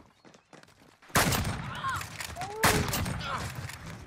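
Video game gunfire in a one-versus-four match: two sharp, loud bursts of shots, each followed by a fading rattle, with a muffled voice before the first burst and game sounds between them.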